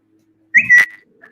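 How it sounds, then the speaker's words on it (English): A person whistles one short, bright, rising note close by, followed by a faint little tail, with no talking. "Whistling, sorry."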